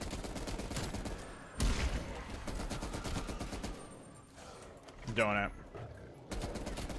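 Automatic weapon fire in the shooter game Cold War Zombies from an M60 machine gun, with rapid sustained bursts broken by short pauses and a voice speaking briefly over the shooting.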